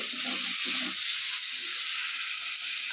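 Onions and tomato fry in a pan, giving a steady, close sizzle with soft bursts of stirring throughout.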